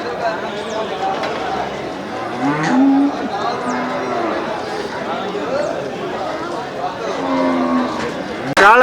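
Cattle moo repeatedly at a busy livestock market, with several drawn-out calls both near and farther off. People chatter continuously underneath.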